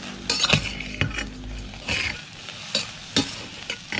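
Grasshoppers dry-roast in a pan with no oil, stirred by a metal utensil that makes sharp scrapes and clinks in irregular bursts over a faint crackle.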